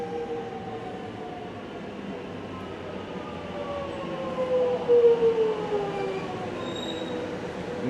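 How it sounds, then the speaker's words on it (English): A suburban train arrives at Camberwell station, rumbling in steadily and growing louder, with drawn-out metallic wheel squeals rising and falling as it nears the platform. "Here comes that train."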